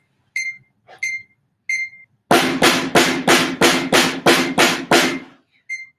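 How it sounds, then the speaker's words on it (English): Metronome clicking at double time: a few sparse high beeps give way to a rapid, evenly spaced run of loud, sharp clicks, then a couple of lighter beeps trail off. "So I'm going to put the metronome back on, but this time we're going to go double time."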